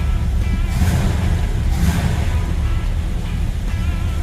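A 1956 Chevy Bel Air engine runs steadily at idle, a continuous low rumble with slight swells, close and fairly loud, no voices.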